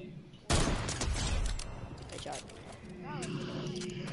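Gunfire in Fortnite, a sudden loud burst of rapid shots followed by scattered cracks and clattering game effects, with a player talking over it.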